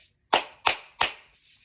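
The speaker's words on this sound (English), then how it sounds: "we're gonna do 3 loud claps" Three loud, sharp hand claps, evenly spaced about a third of a second apart, close and dry with no talking.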